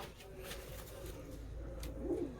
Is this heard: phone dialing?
no